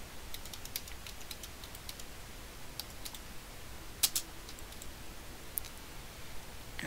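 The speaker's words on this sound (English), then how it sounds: "because I can't actually see what I'm typing" Light, scattered computer keyboard keystrokes tap out an irregular rhythm, close and fairly quiet, with a couple of sharper clicks midway and no talking.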